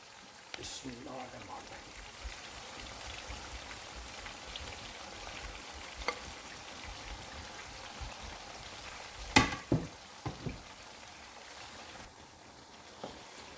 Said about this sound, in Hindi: थोड़ी देर तक इसे मज़ीद फ्राई करेंगे।